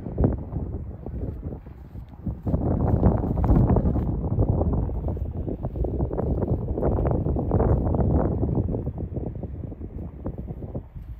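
Steady wind gusting across an outdoor field from right to left, a continuous loud rushing buffet with no speech.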